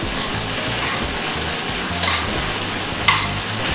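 Soaked sabudana tipped into a hot pan and stirred for khichuri, giving a continuous sizzle with scraping spoon strokes and a couple of sharper clinks, close and fairly loud, no talk.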